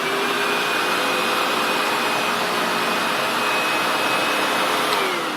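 A Sebo X4 Pet Edition upright vacuum cleaner running at close range, its motor giving a loud, steady whine and rushing airflow that holds constant throughout.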